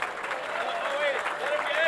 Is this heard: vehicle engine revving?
no